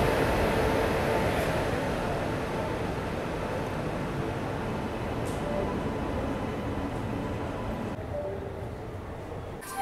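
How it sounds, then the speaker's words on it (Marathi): A passenger train hauled by a WAP7 electric locomotive pulls into a station with a continuous low rumble and rolling noise that fades slightly toward the end, at moderate volume. "ही आली आहे बघा आपली गाडी आणि आपलं जे लोकोमोटिव्ह आहे ते आहे"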